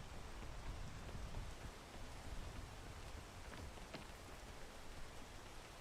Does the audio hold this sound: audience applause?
no